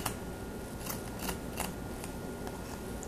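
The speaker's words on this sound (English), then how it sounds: "So I'm going to cut my strips again" Scissors snip thin, short strips with several crisp, quiet cuts at irregular intervals over a faint steady background.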